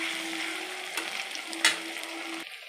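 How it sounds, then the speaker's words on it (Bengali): Five or six green chillies and chopped ginger fry in a pan, a quiet steady sizzle with a few soft stir clinks and one sharper scrape before it fades; no one speaks. "এরপর আমি কাঁচা লঙ্কাটা দিয়ে দিলাম 5-6টা, আদা কুচি দিলাম, দিয়ে আবার আমি ভালো করে এটাকে ভেজে নেব।"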